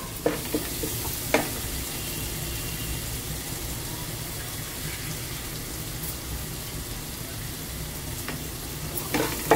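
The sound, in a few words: masala spices frying in oil for achari bhindi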